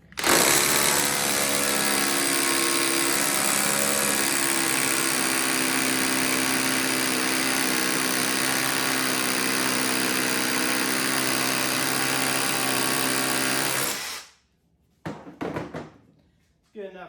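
Cheap cordless SDS hammer drill boring a hole, a loud steady hammering whine running for about fourteen seconds before stopping abruptly, followed by brief quieter clatter and handling noises.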